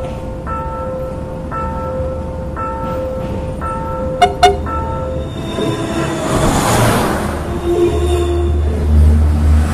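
Crossing bells ding in a regular rhythm at a level crossing in Argentina, then a train rumbles and roars past close overhead, growing louder and filling the sound with a heavy clatter.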